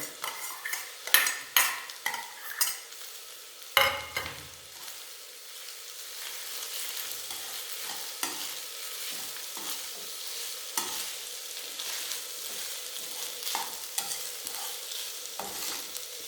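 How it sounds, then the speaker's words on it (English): Mashed potato being stirred into a frying dosa masala of onions in oil, with spoon scrapes and clatters against the pan over a steady sizzle, louder stirring strokes early on before settling into continuous frying. "Now I am adding the mashed potato."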